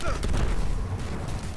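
Gunfire in the video game Destiny on Mars at the Garden's Spire: a dense, loud volley of shots booming close by and blurring into one continuous rattle.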